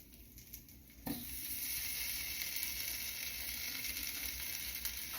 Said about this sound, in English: While I am browning the meat and letting this heat up and stuff